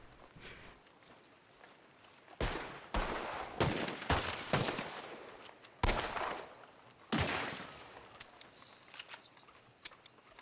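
Guns are hip-fired in the Western game Red Dead Online on the WildRP server, sharp loud shots going off in irregular clusters with short pauses between them and no talking.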